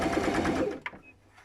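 A treadle-driven top-loading sewing machine stitching a corner of fabric, a short steady whirring run that stops, followed by a faint click and quiet.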